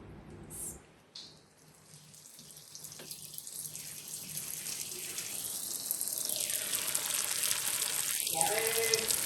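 Feniya strands frying in oil over a low flame give a steady, close sizzle that gradually swells louder and denser, with a few brief clatters near the start.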